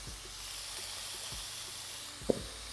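Shrimp cooking in a pan of garlic butter gives a soft, steady hiss and sizzle, fairly quiet and even throughout, with one brief sharp pop near the end.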